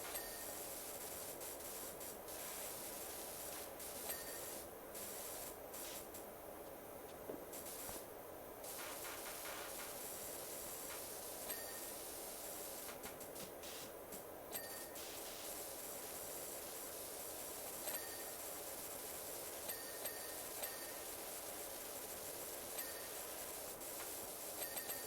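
A pressure washer sprays continuously in PowerWash Simulator, a steady loud hissing jet that runs nearly unbroken for the whole stretch, with brief shifts in tone as the spray moves across surfaces.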